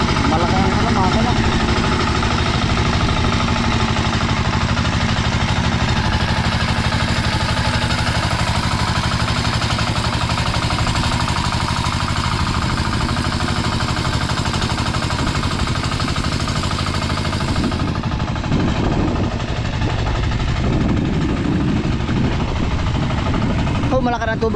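A large engine runs steadily nearby, a loud continuous mechanical drone that changes slightly near the end, with people talking over it.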